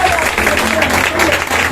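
Church congregation applauding during a worship service, a dense continuous patter of clapping filling the room at steady loudness, with voices mixed in underneath.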